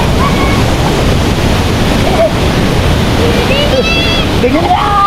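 The Babak Pelangi waterfall in Central Lombok, Indonesia roars in a constant, loud broadband rush, with people talking and calling faintly over the crashing water.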